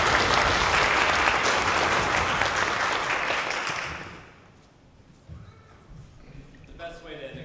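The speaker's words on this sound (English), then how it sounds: "Please give them another well-deserved round of applause." Audience applause at a school district music festival concert, a loud full wash of clapping from a large crowd that fades out midway, leaving quiet room noise and faint talk.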